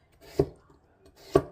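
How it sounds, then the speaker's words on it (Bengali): A knife cutting vegetables on a board, likely potatoes, gives two sharp, separate chops about a second apart in a quiet kitchen. "এই যে আমি এরকম করে করে কাটবো, আলুটাও এইভাবে কাটবো"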